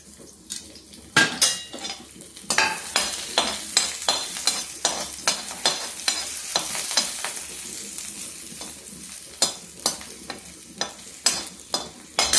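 Ginger frying in ghee in a pan, with repeated sharp scrapes and clinks of a spatula against the pan over a steady sizzle, close and fairly loud.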